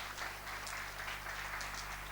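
A church congregation applauds together in a brief burst of steady clapping, faint and diffuse in a large room over a low electrical hum.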